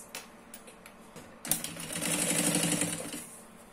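A sewing machine stitches together two layers of fabric for a baby changing pad, running in a steady close whirring burst after a few soft handling taps.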